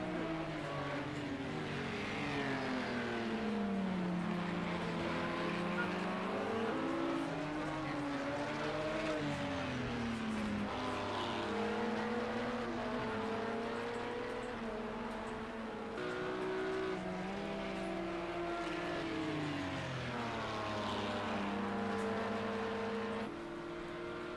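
Race cars lapping the Spa circuit during an endurance race, engines rising and falling as they pass one another, a continuous layered drone with pitch swells, fairly faint and distant, no voices heard.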